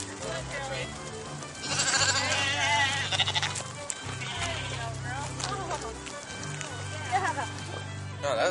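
Sheep bleat repeatedly during a sheep drive on an organic farm, several overlapping calls near and far over a continuous bed of movement and hoof noise, with people talking throughout.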